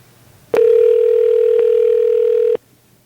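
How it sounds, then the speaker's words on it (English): A telephone tone heard while calling a number in Italy, sounding as one loud, steady continuous tone of about two seconds that starts and stops abruptly against quiet background hum, with no talking. "I'm gonna call Lisa in Italy"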